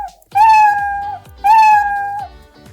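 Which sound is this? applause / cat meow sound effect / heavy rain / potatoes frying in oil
cat meow sound effect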